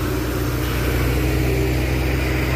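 A Dino Jember tanker truck works its way up a steep hill, its engine droning steadily and loudly without a break.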